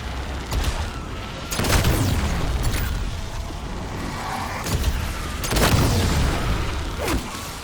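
Charged shots from the SunderGat video game gun boom out in heavy, loud blasts, several bursts spread across the clip with rumbling low-end tails and crackling debris between them, no talking.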